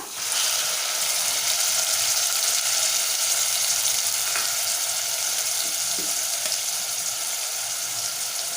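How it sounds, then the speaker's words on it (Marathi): Finely chopped medium tomatoes frying in a pan for spicy chicken curry, a loud continuous hissing sizzle that holds steady throughout, with a faint clink or two and no talking. "आता आपण जे मीडियम आकाराचे टोमॅटो बारीक चिरून घेतलेले आहे ती घालूया"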